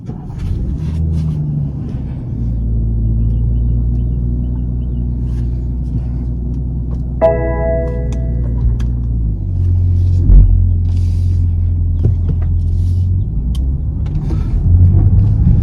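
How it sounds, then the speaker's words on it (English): A 2022 BMW X7 40i starts and drives off, with a loud, steady engine rumble, a brief chime-like tonal burst as the engine catches, and a shift in the drone partway through, with no speech. "now let's start up this vehicle and let's take this out for a spin"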